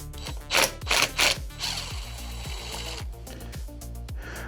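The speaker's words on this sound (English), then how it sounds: "24 bolts holding the cover on. Let's get started cracking these loose." A ratchet wrench cracks loose the 24 bolts on a differential cover, with rapid rhythmic clicking in bursts and a few sharp metallic knocks, close and fairly loud.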